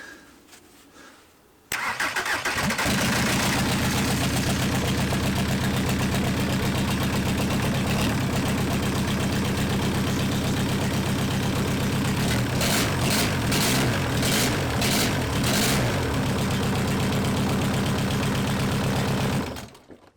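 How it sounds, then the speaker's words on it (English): A free junkyard engine for a Transporter van cranks briefly, then catches and runs at a loud, steady idle with a rough, knocking pulse that wavers near the end before it shuts off. "We have an engine that runs, actually"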